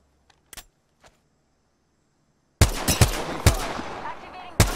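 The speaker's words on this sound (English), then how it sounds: "Shots fired and they're hitting me." Gunfire in Apex Legends: a few faint, sparse pops, then a loud close burst of rapid shots with sharp repeated cracks and a final shot, mostly alone without talk.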